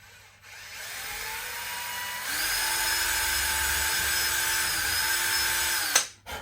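A power drill bores a new start hole for a guitar strap button screw, whining steadily near the mic for several seconds, rising in pitch partway through, then cutting off abruptly.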